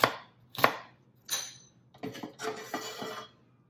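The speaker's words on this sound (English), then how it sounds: "I am going to go ahead and finish cutting up my onion" A knife chopping onion on a cutting board at home, close and crisp, a few spaced single chops followed by a quicker run of cuts, with no talking.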